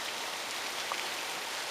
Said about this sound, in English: we finally got some rain